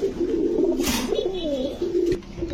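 Pigeons cooing at a pigeon market, a close low throaty coo repeated in a short rolling phrase over busy market background noise.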